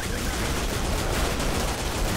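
Gunfire from the game Killing Floor, a dense, continuous burst of rapid shots that fills the whole span with harsh noise and leaves no gaps.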